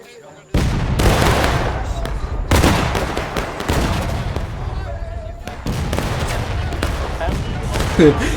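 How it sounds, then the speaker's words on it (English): Civil War battle gunfire in a large multiplayer Maryland Campaign video game battle: dense, loud rolling volleys of musket fire and booming shots, sustained for several seconds after a quiet lead-in, with a voice briefly audible. "Confederates shooting all they could onto LB."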